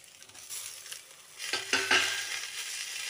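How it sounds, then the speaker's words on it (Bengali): Onions and turmeric sizzle softly in a pan, with a few clanking stirs near the middle and a continuous frying hiss, heard close. "হলুদ দিয়ে আবারও বেশ কিছুক্ষণ নাড়িয়ে চাড়িয়ে নেব। দেখো আমার পেঁয়াজগুলো ভালো করে ভাজা হয়ে গেছে"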